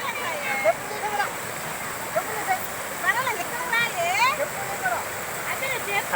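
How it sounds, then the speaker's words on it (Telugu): The Gomiki river rushes and splashes in a constant roar, with voices talking over it. "చూడండి వాటర్ ఎలా వస్తుందో చూడండి ఒకసారి"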